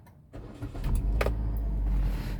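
A 2012 Kia Picanto 1.2 automatic cranks briefly and then catches. The start is followed by a steady, close idle rumble that runs to the end.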